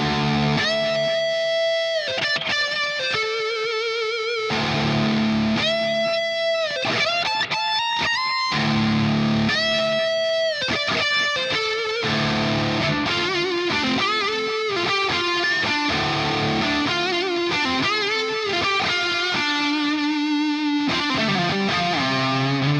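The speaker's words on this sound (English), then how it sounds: "a boost, a delay and reverb over that high gain tone" Heavily distorted high-gain electric guitar through a Hotone Ampero II Stomp with boost plays sustained chords and riffs, thick with echoing delay and spacious reverb, loud and continuous throughout.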